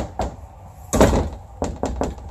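A bathroom door in a Keystone Alpine 3801FK luxury fifth wheel RV being handled, giving a few solid dull thunks and knocks, one louder central bang, close and alone.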